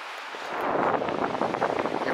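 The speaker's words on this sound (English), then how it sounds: "Boy, did it get blustery." Strong, gusty wind buffets the microphone at a lake with whitecaps on the water, a broad roaring rush that swells and surges continuously, loud and close with no voices.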